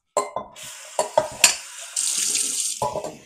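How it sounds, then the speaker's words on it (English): Water poured into a cooking pot in a kitchen while making cornmeal porridge, preceded by a few sharp clinks and knocks of cookware, then a steady splashing stream lasting about a second before more clatter. "first we are going to put some water in the pot"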